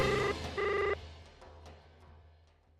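An outgoing telephone call rings in a Hindi TV serial scene, two electronic ring bursts in close succession over a low background hum, followed by a fading tail of room ambience.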